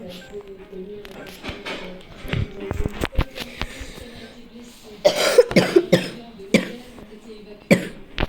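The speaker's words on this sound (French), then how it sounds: "Et je tousse." Several harsh coughs burst out near the mic amid scattered taps and background noise, with a cluster of louder coughs toward the end.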